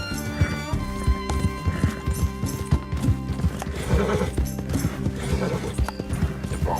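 A horse gallops in Red Dead Redemption 2, its hooves drumming in a quick, steady rhythm close by, with loud neighs and whinnies breaking through the running beat.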